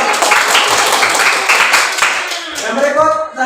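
Applause from students in a classroom during an exam session, dense, steady clapping filling the space at close range, with voices mixed in underneath.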